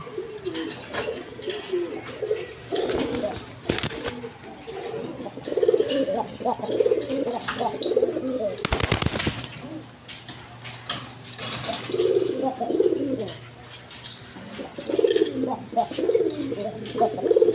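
Pigeons coo repeatedly in soft, low throaty phrases close by, with a brief burst of rustling noise partway through.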